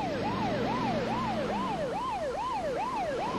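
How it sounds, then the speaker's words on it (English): Ambulance siren wailing in a steady repeating rise-and-fall cycle, loud and close over road noise as the vehicle heads for the hospital, with a low engine drone underneath. "As the ambulance headed for the hospital,"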